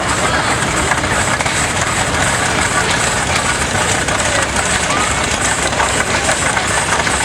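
Antique overview tractor engine idling at a summer farm show in Madison, South Dakota, a loud steady mid-pitched rumble filling the clip with a constant chugging texture.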